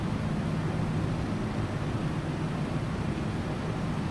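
A steady, broadband roar from a TFDI MD-11 airliner in Microsoft Flight Simulator 2024, using a freeware sound mod, holds an even loudness throughout with no voices.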